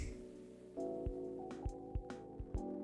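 Rain falling in the video game Coffee Talk 2, a soft steady patter under layered music with a few brief percussive hits.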